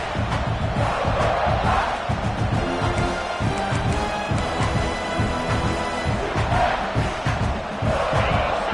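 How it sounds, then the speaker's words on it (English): A stadium crowd roars in a college football video game on a second-down play, a loud, sustained wall of cheering and chanting that holds at full volume throughout. "This crowd even louder now on second down as they try to hold on."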